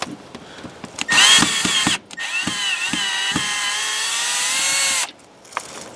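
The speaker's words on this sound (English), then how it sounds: "We're gonna take the screws out." A power drill backs screws out of a frost proof outdoor faucet mounted on a wall, with two loud whining bursts of the motor rising in pitch, separated by a pause and framed by clicks and handling knocks.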